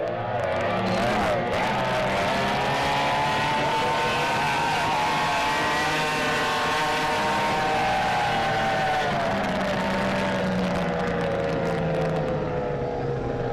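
Racing boats roar across Lake Tholocco, a loud sustained, buzzing engine drone whose pitch rises and bends as the boats pass at speed, filling the whole stretch before easing off at the end.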